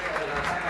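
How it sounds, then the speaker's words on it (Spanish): Stadium crowd applause at a Torneo Federal Amateur football match as the captain is substituted off, a steady wash of clapping under an excited commentator's voice. "se va a ir Cristian Barinaga, prepara entonces para recibir los aplausos del capitán."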